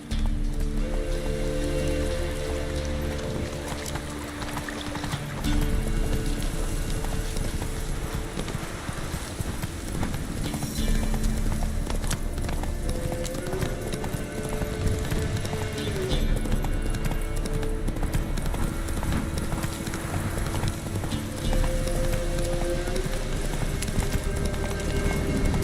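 Hooves of a horse galloping in The Witcher 3 beat out a steady, fast clip-clop, with rain falling, game music underneath and brief shouted voices.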